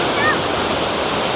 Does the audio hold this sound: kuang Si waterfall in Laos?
yes